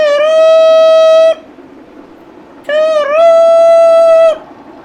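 A voice imitates a train: two long sustained tonal hoots like a whistle, the second bending in pitch partway, close and loud against a quiet background.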